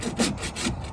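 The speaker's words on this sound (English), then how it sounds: "If you take a rasp" Rasp scraping across a seam on a wooden window box joint, a few quick rough strokes close by, with no talk.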